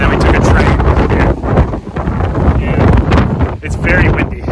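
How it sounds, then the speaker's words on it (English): Strong wind buffets the microphone in loud, rumbling gusts, with people talking underneath. "It's very windy."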